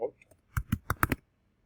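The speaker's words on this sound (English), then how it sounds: "I'm just typing in." Brief burst of typing on a computer keyboard, about five distinct key clicks in quick succession after a soft faint tap, close and clear.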